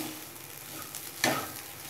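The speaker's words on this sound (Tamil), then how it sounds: "இப்போது லாஸ்ட்டாக நம்ம இந்த தேங்காவை போட்டு நல்லா கிளறி" Grated coconut stirred into okra poriyal frying in a pan, with a continuous soft sizzle and one sharp scrape of the spoon partway through.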